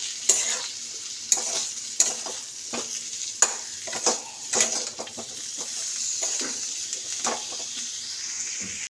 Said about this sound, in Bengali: তো এই যে তো কষে নিচ্ছি